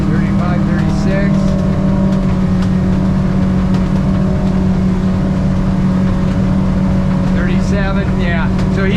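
A Grady White 24 boat with a Yamaha F200 outboard running at speed, a loud steady engine drone with water rush and wind, with a voice speaking over it near the start and end.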